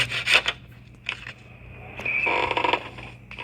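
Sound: saw cutting through an obstacle in the horror video game Eyes

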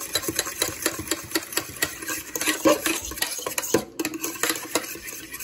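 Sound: stirring cornstarch into beef in a bowl

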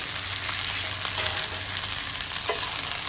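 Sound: onions frying in very hot oil

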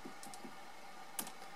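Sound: keys of an external MIDI keyboard being played

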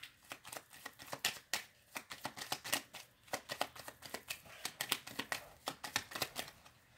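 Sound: shuffling a deck of cards

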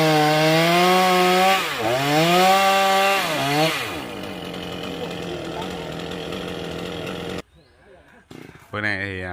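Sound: chainsaw cutting a tree trunk

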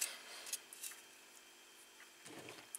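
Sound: scissors cutting a square of foam

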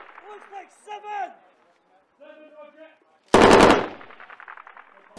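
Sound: heavy machine gun fire in combat

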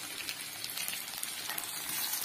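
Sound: frying onions and tomatoes with ginger and garlic

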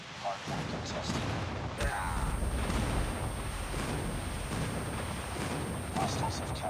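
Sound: airstrike explosions in video game COD Mobile

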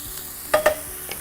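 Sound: onions frying in a pan

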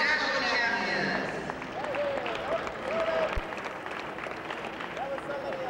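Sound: applause for heavyweight national champions

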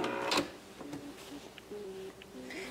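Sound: sewing machine stitching a Christmas stocking

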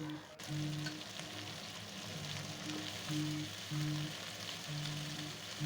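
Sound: frying spices and drumstick flowers in oil

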